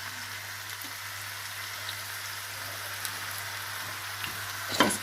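Sea bream fries in a covered pan, a soft, continuous sizzle with faint crackles, steady and quiet throughout, ending with a brief sharper spatter near the close.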